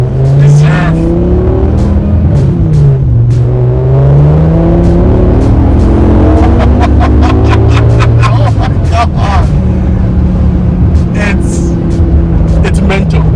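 A BMW E60 M5 engine revs hard under acceleration from inside the car, its pitch sweeping up through successive gears, loud and continuous with people talking over it.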